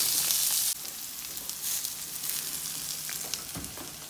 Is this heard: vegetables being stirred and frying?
yes